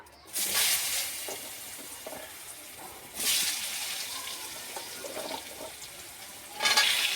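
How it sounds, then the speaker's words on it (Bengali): Potatoes frying in hot oil in a wok, heard as bursts of sizzling and crackling that swell and fade three times, with stirring in between, close and moderately loud with no talk. "প্রথমে আমি আলুটা ভেজে নেব।"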